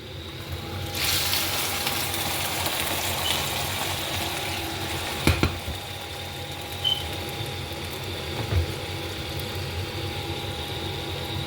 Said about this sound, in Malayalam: അപ്പോൾ ഈ ബീഫ് ഞാൻ ഇതിനെ മറ്റേ പാനിലേക്ക് ആഡ് ചെയ്ത് കൊടുക്കുകയാണ്.